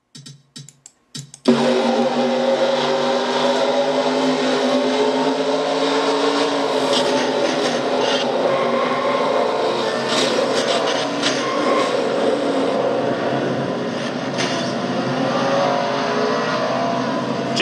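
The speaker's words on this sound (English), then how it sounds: "On board with Chris Dalton in car number 55" Heard on board car number 55 in a racing video game, the race car engine gives a loud, steady, droning roar after a few brief clicks at the start. The pitch shifts slightly as the car holds high revs, with no talk.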